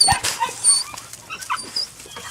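A litter of five puppies found under a house's back stairs whimper and yip close up in short, high, irregular cries, some overlapping, with soft movement sounds between them.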